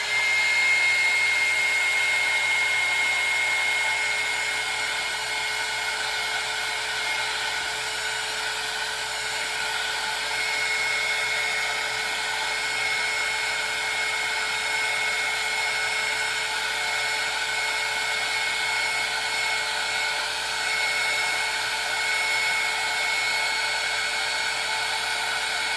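A hair dryer blows steadily to dry paint on a face, a loud, continuous high whine with a constant airy hiss that runs unbroken throughout.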